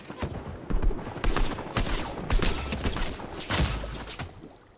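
Thermal-scoped assault rifle in Fortnite firing slow, evenly spaced single shots, loud and close, about eight reports in a steady rhythm.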